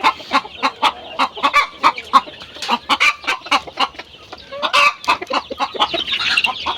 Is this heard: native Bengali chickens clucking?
yes